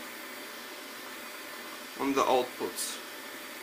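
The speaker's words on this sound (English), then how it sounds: "So this is the first run of my vacuum cleaner." A Xiaomi Mi robot vacuum cleaner runs on a desk with a steady, even whirring hum throughout, while someone speaks briefly over it near the end.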